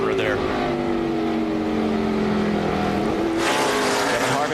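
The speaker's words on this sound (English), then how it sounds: "I hear him on the road limiter there" A NASCAR stock car engine drones steadily on the pit road speed limiter at the 2003 Subway 500, a loud sustained buzzing hum, with a sudden burst of broadband roar near the end and a commentator talking over it.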